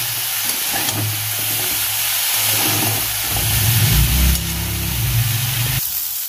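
Cauliflower and potatoes frying together in a pan, a steady oil sizzle running throughout with occasional scraping and stirring sounds over a low background hum.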